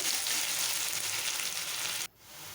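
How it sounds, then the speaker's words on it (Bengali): Onions frying in hot oil with panch phoron spices give a steady, loud, close hiss and sizzle that suddenly drops off near the end, with no talking. "পেঁয়াজটা একটু ভালো করে এগুলোকে ভালো করে একটু লাল লাল করে একটু ভেজে নেব"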